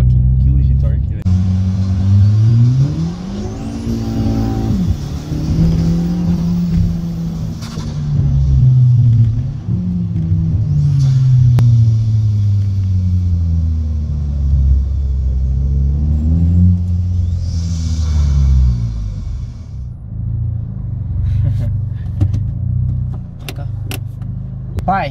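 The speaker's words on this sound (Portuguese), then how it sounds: "É uma junção de flutter com difusor, o turbo. O estralo da troca de marcha" A turbocharged Volkswagen Jetta fitted with a flutter blow-off valve revs and drops repeatedly up close, with rising and falling engine tones and brief pops between shifts.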